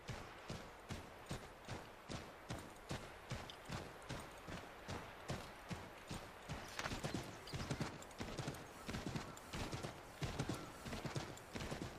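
Horse hooves pound in a steady gallop through the frontier wilds of the video game Assassin's Creed III, a loud, rapid, even clip-clop rhythm running throughout with a brief whinny and no talking.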